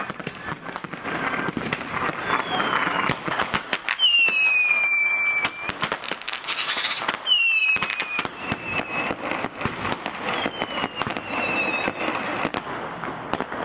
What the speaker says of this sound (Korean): 온 마을 사람들이 일제히 폭죽을 터뜨린다